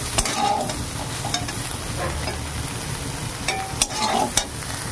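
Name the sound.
fried soybean chunks being stirred and lifted from the pan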